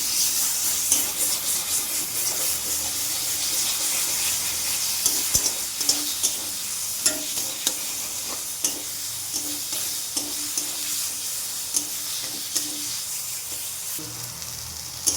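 Drumstick leaf paste being stirred in a frying pan, a steady sizzle with scattered scraping ticks of the spoon against the pan, close and fairly loud, no talking.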